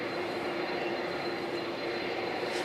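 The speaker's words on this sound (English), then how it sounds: "you can hear the sound of those jet engines from where we are, and they have slowed down quite a bit" Jet engines of a presidential plane taxiing on an airport apron in West Texas make a steady, distant whine and rumble, slowed down and even throughout, heard from far off with no voices.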